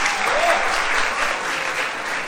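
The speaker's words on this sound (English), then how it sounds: "please put your hands together for our very own alumnus, Yogendra" Audience applause greets an alumnus being introduced at a talk, a thick, continuous roar of clapping at steady loudness from start to finish.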